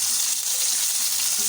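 Chicken strips fry in a pan with a dense, close sizzle that holds steady through a quick flip, no talking.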